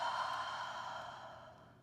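A single deep exhale through the open mouth during a yoga flow, a soft breathy whoosh that starts strong and fades away over about two seconds.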